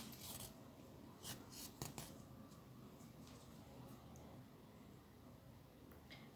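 Scissors snip through knitting yarn during work on a triangular knitted bag, giving a few sharp, close, quiet cuts against a soft background.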